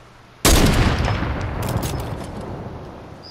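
A single sharp gunshot from a weapon in the video game Fortnite bursts out loud and close, then rings and decays over a few seconds.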